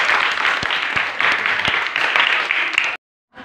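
Dense, loud applause from a school audience at an elementary school reading-corner event, sustained for about three seconds before cutting off abruptly.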